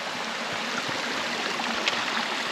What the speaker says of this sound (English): Oh, look at the little trickles of water up there.